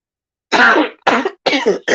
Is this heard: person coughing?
yes